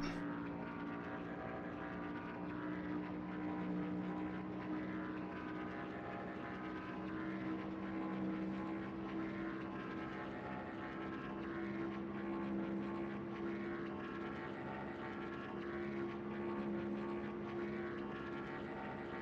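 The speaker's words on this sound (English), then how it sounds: "Alright, engine's starting to wind up again." A race car engine at Daytona International Speedway drones steadily for the whole stretch, distant and muffled, with a gentle swell in the middle and no talking.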